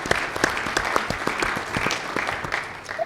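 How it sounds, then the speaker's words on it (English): Audience applause for Dr. Kizzmekia Corbett during a fireside chat, with steady clapping that carries throughout, sharp individual claps standing out and faint voices mixed in. "Big round of applause for that."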